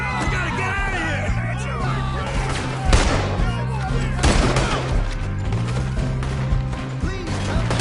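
Gunshots ring out in Red Dead Redemption 2 amid a chaotic game shootout, with a few sharp cracks standing out over a dense bed of music, yelling and character voices.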